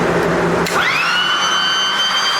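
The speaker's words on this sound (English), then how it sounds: "It's my Ryobi leaf blower" A Ryobi battery leaf blower, fitted with a Powilling replacement battery, whirs up with a rising electric whine, then holds a steady, loud rushing hum close by.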